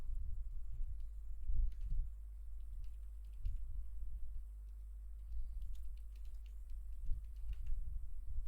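Soft, rapid keystrokes on a computer keyboard entering an email address, an irregular run of quiet clicks spread across several seconds with no talking.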